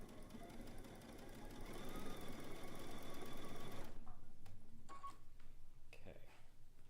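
A sewing machine stitches a zigzag quilt seam over pins with a steady, close mechanical hum for about four seconds, then stops, followed by a few light clicks and handling sounds.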